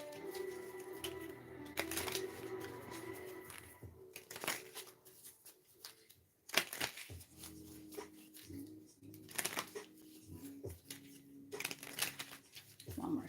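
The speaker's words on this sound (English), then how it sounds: "One more shuffle." Tarot cards being shuffled close by in several papery riffling bursts, with quiet talk between them.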